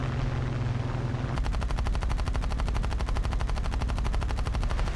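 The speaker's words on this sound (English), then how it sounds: "it has very good armament, very good machine guns" Rapid aircraft machine gun fire from a plane in War Thunder Mobile, a loud, fast, even rattle of shots that starts after a second of engine drone and continues unbroken to the end.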